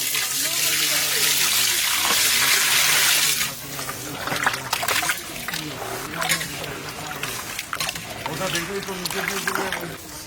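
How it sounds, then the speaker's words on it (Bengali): Water is poured into a pan of hilsa fish curry, a loud steady splashing stream for a few seconds, followed by bubbling, clattering cooking sounds as a voice talks over it. "হালকা পরিমাণে জল দেবো, সামান্য জল দিয়ে একটু গ্রেভি করে দেবো।"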